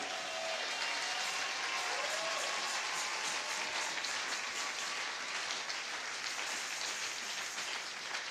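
A church congregation applauds and acclaims the Lord, steady clapping that runs unbroken throughout at a moderate, slightly distant level.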